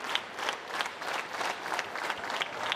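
A wrestling crowd at a live women's championship show in Melbourne cheers and claps, a dense, steady wash of applause with rhythmic surges, loud and continuous throughout.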